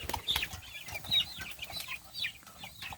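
Chicks cluck and chirp in a brooder holding a batch of about 110 meat chickens, with bright repeated peeps scattered throughout, fairly close, plus some faint rustling and wing flutter and no talking.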